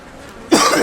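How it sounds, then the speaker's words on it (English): A single loud cough bursts in abruptly after half a second of near-silence and carries on rough and breathy to the end. "Cough number 2"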